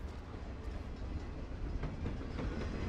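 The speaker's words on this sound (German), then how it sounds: "da kommt ein Zug" A train rolls past in the video game Life is Strange, a continuous rumbling clatter of wheels on rails at moderate volume with faint rhythmic clicks.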